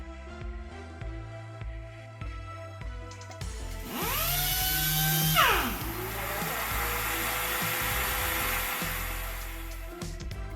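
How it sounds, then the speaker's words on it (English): A Mirka DEXOS dust extractor switches on automatically with its tool. Its motor spins up partway through with a rising whine, then settles into a steady, loud airflow roar after a stretch of background music. "It will automatically sense vibrations and start the dust extractor."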